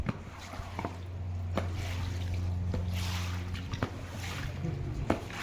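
Water splashes and trickles as a floor wiper drags water across a tiled floor, soft wet swishes with a few light taps, moderately faint and steady.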